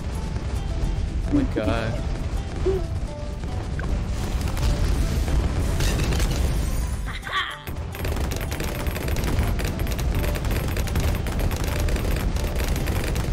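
Missiles launch in the Balloon Island video game: a dense, continuous barrage of booming, crackling game effects fills the scene, briefly dipping in the middle before resuming, with a voice exclaiming once.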